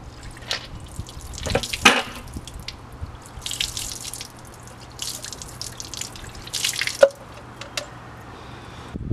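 Water drips and splashes off freshly rinsed brake calipers during a rust-cleaning job, scattered irregular drops and trickles over a steady background hiss, fairly close.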